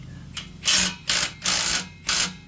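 Exhaust clamp being loosened on a 2019 GMC Sierra fitted with an AWE 0FG exhaust: four short, loud bursts of a power tool, probably an impact wrench, each lasting a fraction of a second with brief gaps between them.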